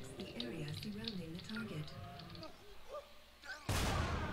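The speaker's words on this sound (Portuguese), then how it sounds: "a gente explodiu o chip na cabeça dos caras" Chips explode inside enemies' heads in the Syndicate video game, a sudden loud burst near the end following a stretch of game music and effects.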